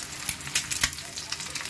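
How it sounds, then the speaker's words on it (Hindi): A single egg fries in a hot pan at home, a close, steady crackling sizzle dotted with sharp pops and clicks, with no talking. "एक अदद अंडा फ्राई कर रही हूँ मैं"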